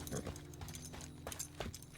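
Horses in the video game Teardown give off soft, repeated hoof clops and shuffling over a low droning game backdrop, with several brief louder thumps spread through the stretch.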